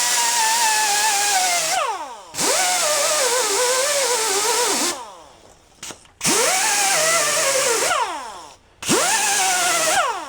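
A grinder fitted with a cheap 3M Scotch-Brite pad, used during a merry-go-round repair, whines up and winds down in three or four loud bursts, each separated by a short pause.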